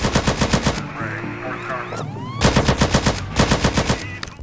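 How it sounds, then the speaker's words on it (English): Automatic gunfire from a drive-by shooting in GTA San Andreas, with rapid bursts of shots over steady in-game noise, a pause with other game sounds in the middle, then more loud firing. "Now you can shoot using any weapon on any vehicle, switch guns with Q and E"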